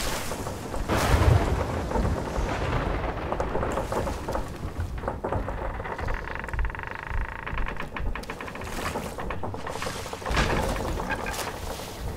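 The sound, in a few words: storm with thunder at sea in the video game Sea of Thieves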